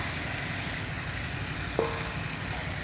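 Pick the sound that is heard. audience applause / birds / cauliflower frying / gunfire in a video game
cauliflower frying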